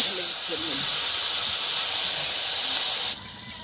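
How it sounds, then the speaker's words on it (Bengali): Leafy curry poured into hot oil tempered with dried chilli and five-spice in an iron wok gives a loud, close, steady hiss that cuts off abruptly near the end. "আমি এবার এই তরকারিটা এটা ঢেলে দিচ্ছি।"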